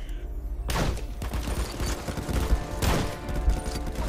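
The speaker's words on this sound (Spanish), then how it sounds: "A echarte unos tiros así a rifles, tío." Rapid rifle fire in a Call of Duty Modern Warfare virtual reality session with bolt-action and M1-type rifles, a burst of overlapping shots and sharp cracks in quick succession, moderately loud with no talking.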